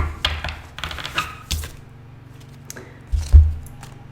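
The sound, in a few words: tarot cards being shuffled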